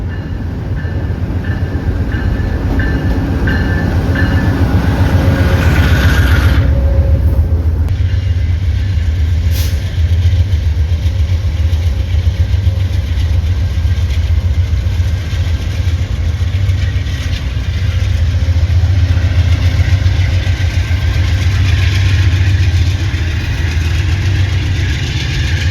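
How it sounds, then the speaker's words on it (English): An Amtrak passenger train led by a P42DC locomotive passes through Altoona alongside another train, a loud continuous rumble of wheels and engine with steady rail noise and brief high squeals, no talking. "here comes the American Passenger Rail Services Amtrak here in Altoona, passing another train"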